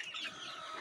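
Chickens kept on a small home rooftop cluck in a steady, close chatter, a continuous busy fowl sound with no talking over it.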